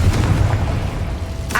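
In Hogwarts Legacy, a Confringo blast spell goes off as a loud, deep, rumbling boom that fills the whole moment, with a brief sharper crackle arriving near the end.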